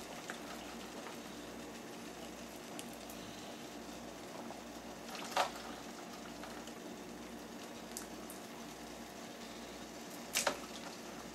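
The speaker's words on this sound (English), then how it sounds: "Once the water begins to boil again, allow the corn to cook for 3 to 5 minutes." Water in a pot of sweet corn at a steady rolling boil, a soft continuous bubbling hiss with a couple of brief clinks or pops, fairly quiet and heard alone.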